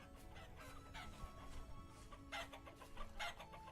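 Chickens clucking on a farm in the survival game Vintage Story, a scattered series of short squawks and clucks close by over a low, dense background rumble.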